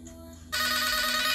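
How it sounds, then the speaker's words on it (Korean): A phone ringtone starts abruptly about halfway through, a loud, steady electronic ringing that continues to the end, with no talk over it. "누구야 이거? 전화 어떻게 받는? 나 이 소리 싫어."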